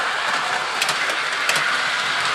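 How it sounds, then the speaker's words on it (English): A Lionel model train running on track powered through an adapter, giving a steady loud whirring hum with light clicks as it rolls along, no talk over it. "So we're running our train."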